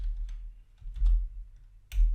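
A few scattered keystrokes tap out a web address on a computer keyboard, quiet and close, in short irregular clicks over a low background hum.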